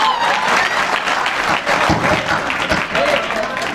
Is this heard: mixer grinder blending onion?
no